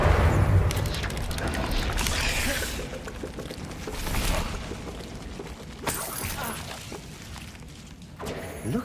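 A Depulso spell cast in Hogwarts Legacy, a forceful booming burst with crashing, shattering debris layered over dense ongoing game effects that stay loud throughout.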